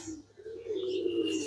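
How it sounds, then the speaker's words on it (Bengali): Pigeons coo in the morning on a home rooftop garden, a steady, low, rolling call that keeps going at close range with no talking. "কবুতর। দেখেন সকালবেলা কি চমৎকার করে ডাকাডাকি করছে"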